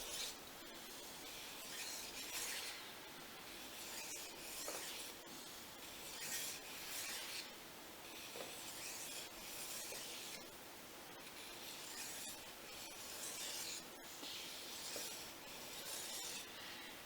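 A Fujimoto Honesuki knife rubbed along a Japanese waterstone at 15 degrees with a small burr on the edge gives steady, close, rasping strokes in a repeating rhythm, with nobody talking.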